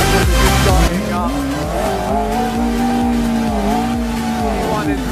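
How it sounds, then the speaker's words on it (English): A McLaren P1 sports car revs among other supercars starting up on a Dubai street, a loud sustained engine note that climbs and holds with a strong low rumble, while people talk nearby. "P1 is revving right here."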